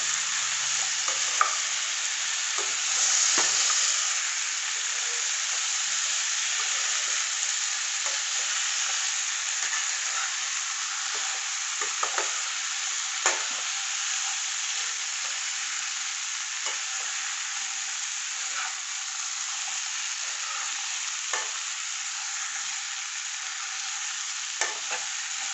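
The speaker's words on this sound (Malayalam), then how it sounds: "നല്ല ഇളക്കി കൊടുക്കാം." Salt-boiled tapioca stir fry sizzles in a pan while being stirred, a long steady hiss punctuated by occasional scraping ticks of the spoon, close and even throughout with no one speaking.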